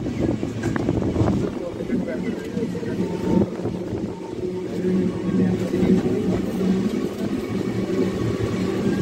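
The Sabari Express rolls along the rails with a steady low rumble and wind rush heard from inside the carriage, continuous and fairly loud, while a person talks over it.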